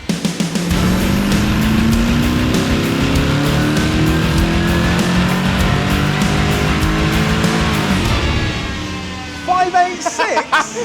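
A modified Jaguar V8 runs on a dyno, its loud engine note climbing in one long, sustained rev pull before cutting off abruptly, followed by a few brief voices at the end.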